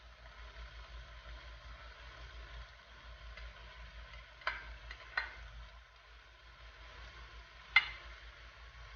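Cabbage stir-fried in a pan for pancit bihon, a soft steady sizzle with low rhythmic scraping and a few sharp clinks of a utensil against the pan.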